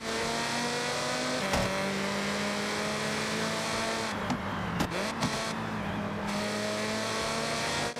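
A Mazda RX-7 rotary engine in Forza Horizon 6, fitted with the Revolution sound mod, drones loudly and continuously with a steady, rough mechanical tone, a couple of sharp clicks or shifts breaking through midway.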